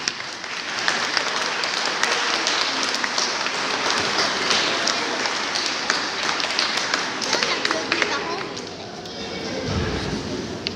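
Sustained applause from a church congregation at a Sunday Mass in the diocese of Tournai, a dense, even patter of many hands filling the whole stretch, easing slightly near the end.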